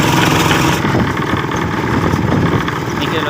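Farm tractor engine idling steadily close by, a rough continuous mid-low rumble filling the whole stretch.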